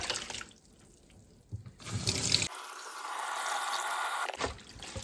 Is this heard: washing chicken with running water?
yes